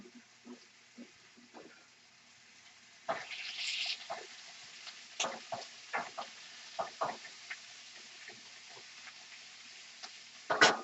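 Marinated meat strips for banh mi sizzle quietly in a frying pan, with soft crackling bursts and the clicks and scrapes of stirring, fairly faint and close.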